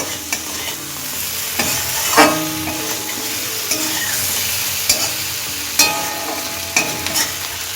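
Mourola fish curry with soft tomato frying in a pan is stirred with a spatula, with a loud, steady sizzle and scraping strokes, several sharper knocks against the pan standing out at intervals.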